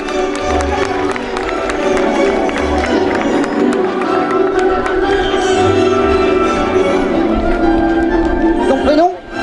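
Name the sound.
audience applauding at a beach magic show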